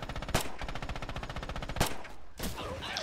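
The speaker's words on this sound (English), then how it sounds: "Oh, it's an MG34, not a 42," MG34 machine gun firing in the Red Orchestra 2 video game: rapid sustained bursts of loud, close automatic fire, with a few heavier booming shots standing out and a brief pause near the end.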